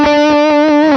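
Electric guitar through an amp pushed by a Morgan Amps Suite pedal on its overdrive 2 setting, holding a thick, saturated sustained note with faint picking pulses underneath, loud and close, no voices.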